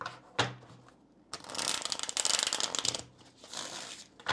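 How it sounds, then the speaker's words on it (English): Tarot cards being shuffled by hand, a short riffle followed by a longer run of crisp, rapid flutters and a final burst, close and fairly quiet with no talking. "Let me just go ahead and shuffle these cards here."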